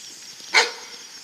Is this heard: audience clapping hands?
no